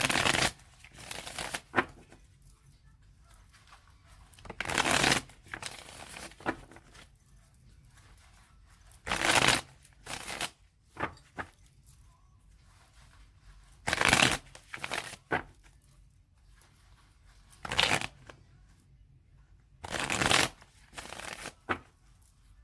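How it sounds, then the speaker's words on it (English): Tarot cards are shuffled in repeated short, crisp bursts of riffling, about six separate rounds spaced by quiet pauses, close and clear with no talking. "Okay, so Aries, I'm going to shuffle it 3 more times."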